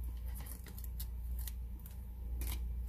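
Scissors make several small, quiet snips cutting through washi tape, close up over a low background hum.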